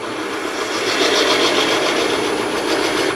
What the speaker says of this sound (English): So still using the small 10 mil diameter spindle gouge.